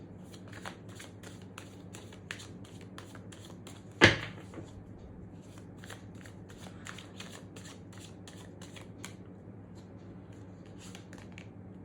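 Tarot cards are shuffled and pulled, a soft steady riffle of card edges with light flicks and one sharp slap partway through, quiet and close with no talk.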